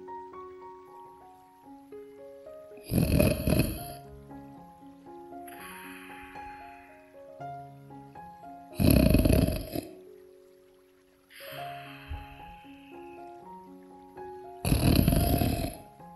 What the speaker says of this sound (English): snored loudly